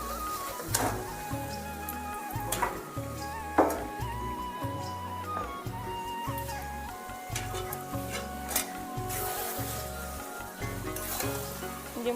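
Meat hits a pan of fried spice paste in oil and sizzles steadily, with crackling pops and scraping stir sounds close by.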